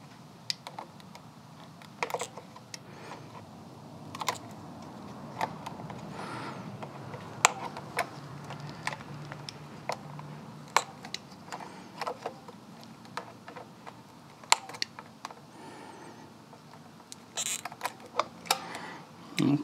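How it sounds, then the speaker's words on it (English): Wire cutters snipping through several wires one after another, producing sharp, close snaps spread irregularly across the clip with small handling clatter and mechanical creaks between cuts, with no talking. "I'm just going to snip them off."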